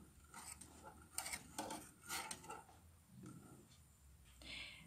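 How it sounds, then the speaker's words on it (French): A spoon stirs a Moroccan dessert cream in a pot over medium heat, soft repeated scraping strokes against the pot at a moderate rhythm, quiet and close. "Maintenant, je le mets sur feu moyenne, 3 à 4 minutes sans cesser de remuer."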